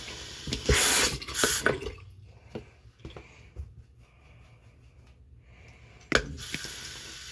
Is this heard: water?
yes